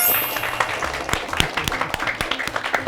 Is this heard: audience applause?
yes